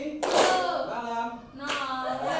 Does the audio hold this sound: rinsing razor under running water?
no